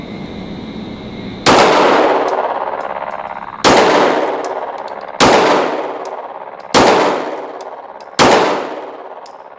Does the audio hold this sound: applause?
no